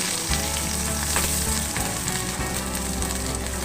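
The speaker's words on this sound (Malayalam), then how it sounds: "സ്പൂൺ വെച്ച് നന്നായി ഒന്ന് വഴറ്റി നല്ലോണം കെട്ട് അതിൻ്റെ പച്ചമണം മാറുന്നത് വരെ നമ്മൾ ഇളക്കി കൊടുക്കണം" Onions and green chilies sauteing in a pan, stirred with a spoon: a loud, continuous close-up sizzle with faint scraping of the spoon running through it.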